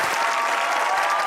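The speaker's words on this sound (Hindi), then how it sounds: "तालियां होनी चाहिए सलमान साहब के लिए" A studio audience at a comedy talk show breaks into loud, dense clapping that stays sustained and even throughout, with no speech over it.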